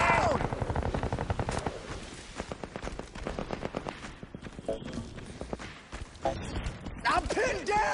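Rapid machine gun fire in the video game Crysis 2, dense bursts of rhythmic shots close and loud, with a person talking over parts of the firing.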